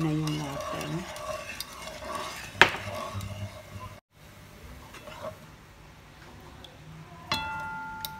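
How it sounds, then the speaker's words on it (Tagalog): A spoon stirs a thick homemade espasol mixture in a pot, scraping and clinking steadily near the mic, with one sharp knock against the pot midway and a bright metallic tap near the end. "Haluin lang ng haluin."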